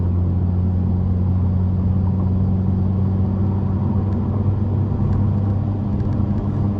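A Hyundai Elantra N cruises at night, its exhaust a steady, deep droning rumble heard from inside the cabin, holding an even note throughout with no talking.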